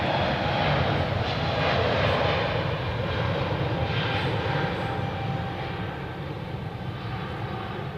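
An airplane taking off from Zurich Airport gives a steady, broadband engine roar that holds strong throughout and eases only slightly toward the end, with no talk.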